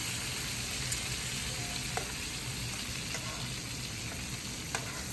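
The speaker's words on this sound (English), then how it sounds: "My pan is hot, so we're gonna take the pierogis," Potato and cheese pierogis fry in a hot pan with a loud, steady, even sizzle that fills the whole stretch, with only a few faint clicks and pops on top.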